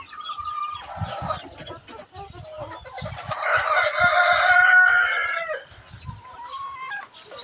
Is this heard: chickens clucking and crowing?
yes